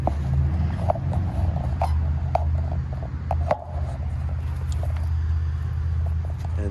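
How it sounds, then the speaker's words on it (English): A Copeland reciprocating compressor in a Carrier Gemini split-system outdoor unit runs with a steady low hum and rumble, heard close by, with a few sharp clicks and knocks over it. "The Copeland reciprocating compressor."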